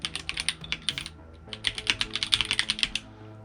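Typing on a K617 keyboard with magnetic Hall effect switches gives a rapid, close run of crisp clacky keystrokes in two bursts with a brief pause between them.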